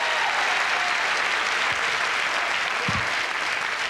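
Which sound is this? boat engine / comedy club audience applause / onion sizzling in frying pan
comedy club audience applause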